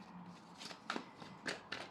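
Tarot cards are shuffled by hand, giving quiet, close riffling bursts, a few sharp ruffles spaced about half a second apart.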